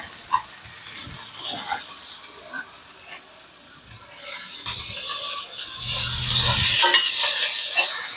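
Chopped tomatoes stirred into a hot pan used for palak paneer, giving a soft scraping, rasping stir with a brief louder sizzle burst near the end, fairly close and with no talking.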